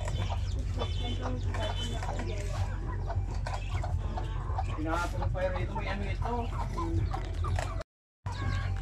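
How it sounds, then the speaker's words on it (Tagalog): Chickens cluck and chatter steadily nearby on a small vegetable farm while someone talks over them. "Ito naman mga manok."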